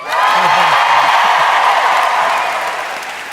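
A live podcast audience in Chicago breaks into loud, sustained applause with cheering and whoops, and the applause slowly fades over a few seconds.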